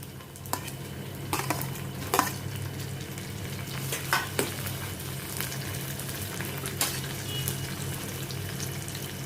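Green chili and chopped tomato sauté in a pan with shah jeera, a soft steady sizzle running throughout, broken by scattered scrapes and clinks of a spoon stirring against the pan, with no talking.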